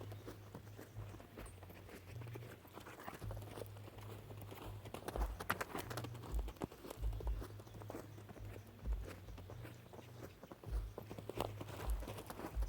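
A young horse loping, rhythmic hoofbeats thudding in a steady three-beat pattern on soft ground at moderate distance, with a low continuous hum and scattered rustling underneath.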